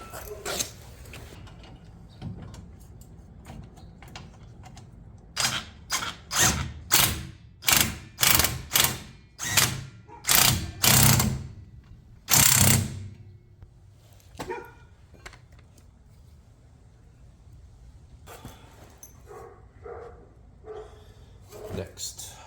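Socket wrench ratchet clicking in a burst of quick loud bursts while working on the front brakes of a 1969 Camaro, with someone talking before and after the ratcheting.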